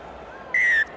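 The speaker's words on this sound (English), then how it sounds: "Wow, surprising whistle there when the Americans seemed to be off and running." A referee's whistle stops play in a rugby sevens World Cup semi-final between the USA and Uruguay: one sharp, loud, sustained blast lasting about a quarter second over low crowd murmur.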